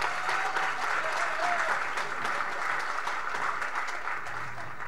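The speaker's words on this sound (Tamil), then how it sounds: "அவருக்காக ஒரு பெரிய கரகோஷத்தை கொடுக்கணும்னு ஆசைப்படுறேன்" Sustained applause from an audience at a film audio launch event for Vellimalai, dense steady clapping throughout, loud and continuous with no pauses.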